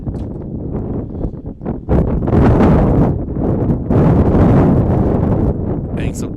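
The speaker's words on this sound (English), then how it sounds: "Now he's okay as we get another big gust of wind." A strong gust of wind at an outdoor baseball game buffets the microphone with a loud, roaring rumble that surges partway through and keeps blustering to the end.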